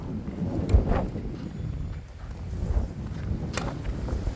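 A gust of wind buffets the microphone during a tennis match on an outdoor court, producing a low, rumbling roar that swells and fades over a few seconds, with a couple of faint thumps.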